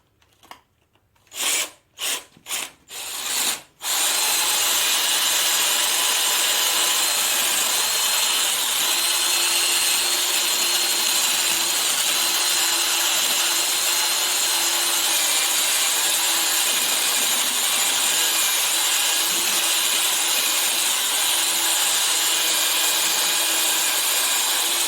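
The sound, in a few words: round wire brush spinning in hand drill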